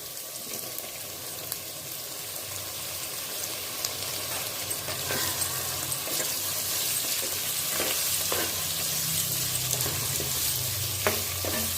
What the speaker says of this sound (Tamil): தக்காளியும் கொஞ்சம் நேரம் வதங்கட்டும்.